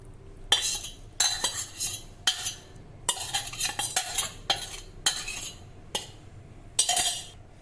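Sugar syrup stirred into a semolina and gram flour mixture in a metal pan, giving a string of distinct scraping, clinking spoon strokes at an uneven rhythm, close and fairly loud with no talk.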